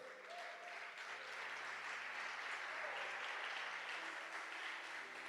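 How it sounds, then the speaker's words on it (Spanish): A church congregation claps in praise of the Lord during a Spanish-language sermon, a steady, moderately distant wash of applause that holds evenly for about five seconds, with faint voices mixed underneath. "¿Le da palmas al Señor por eso?"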